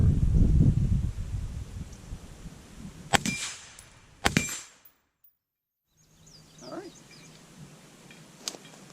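A PSA JAKL rifle on gas position 4 fires two sharp shots about a second apart, followed by a metallic clatter, silence, then faint rustling and a final crack.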